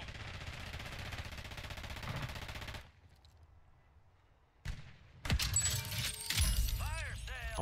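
Call of Duty Warzone gunfire: dense automatic bursts crackle up front, fall away to near quiet, then return as sharp shots and rattling fire, with players talking over the action.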